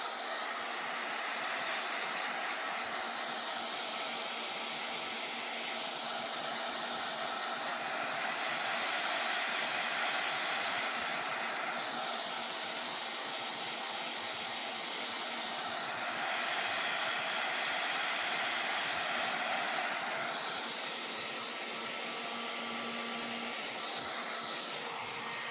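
A hair dryer blows steadily on a drying snowman craft project, a close continuous whooshing hiss whose tone swells and shifts as the airflow is moved around, with no voices.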